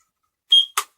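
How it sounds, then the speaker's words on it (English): A Kidde battery-powered smoke and carbon monoxide detector gives a single short electronic beep after its battery is inserted, followed by a brief click, in an otherwise quiet room. "And it beeped once"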